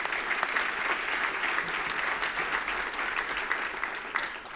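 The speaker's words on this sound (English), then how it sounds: "Let's please have a round of applause for all of our sponsors." Steady, even applause fills a room at a business breakfast event in Wilmington, a continuous wash of many hands held at a moderate level throughout, with no voices on top.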